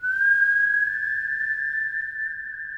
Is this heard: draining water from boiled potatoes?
no